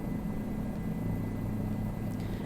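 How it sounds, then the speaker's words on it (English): A helicopter in Microsoft Flight Simulator drones with a steady, continuous low engine and rotor hum that holds even in loudness throughout, with no talk over it. "flying the helicopter in Flight Sim is just very cool"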